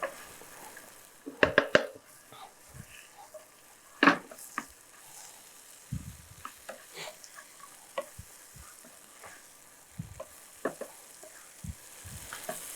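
Chicken pakoda varuval being stirred in a pan over low heat, with scattered clinks and scrapes of a spoon against metal over a faint sizzle, and no talk.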